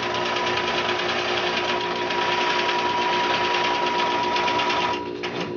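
A longarm quilting machine stitches a charity quilt with a loud, continuous rapid whir and a steady tonal hum, easing slightly at the very end.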